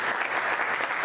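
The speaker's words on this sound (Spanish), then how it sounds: "Y así que un aplauso para el Señor." Audience applause offered to the Lord: a brief, dense burst of many hands clapping, loud and continuous, with no talking over it.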